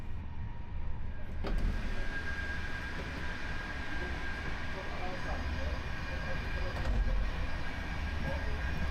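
A new domestically built Polish express intercity train running, heard from inside the carriage as a steady low rumble and rattle with a couple of sharp clunks, with some talking.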